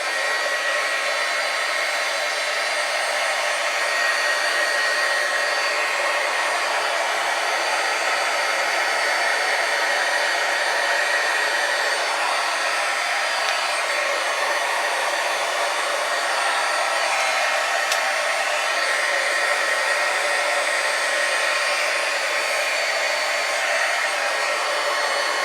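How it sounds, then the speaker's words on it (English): A heat gun blows hot air in a steady, unbroken roar of airflow that holds at an even loudness throughout, with no voices. "be very careful again with your heat tool because this will scorch"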